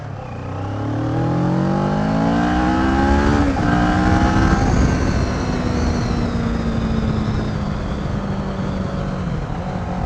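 A Kawasaki Ninja 650R motorcycle accelerates hard, its engine note climbing through rising revs, dipping at a gear change, then pulling up again in a loud, close, sustained roar.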